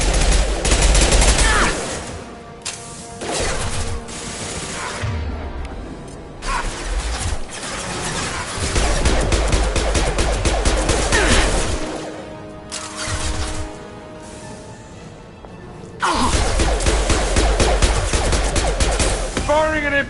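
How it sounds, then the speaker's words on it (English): Heavy gunfire in the sci-fi shooter Mass Effect 2, loud bursts of automatic fire and impacts in repeated volleys separated by brief lulls, with heavy booms underneath. "Firing an impact shot."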